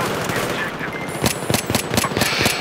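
Pistol gunfire in Battlefield 3 (Aftermath), a quick burst of several sharp shots in fast rhythm over a steady game-sound bed, fairly close and loud.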